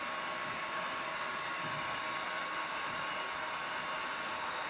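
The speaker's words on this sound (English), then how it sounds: "move your gun around when you're trying to dry paint with a heat gun" Steady, faint whoosh of a heat gun blowing hot air to dry paint on a resin coaster, an even airflow hiss without pauses.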